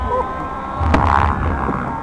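Fireworks bursting around a drone in flight, with a single sharp broadband crack near the middle over a steady hum of drone rotors and wind, followed by a rumbling tail.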